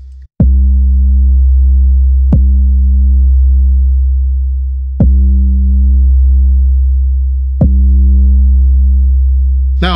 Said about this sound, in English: I believe the two sounds or tones are blending well together.